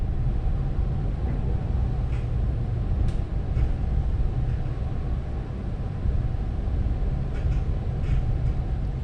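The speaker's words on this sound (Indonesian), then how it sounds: "Kereta api Argo Merbabu Tambahan masuk stasiun Cikarang" A train enters Cikarang station, heard from on board as a steady low rumble and rolling drone with faint metallic squeaks and clicks above it.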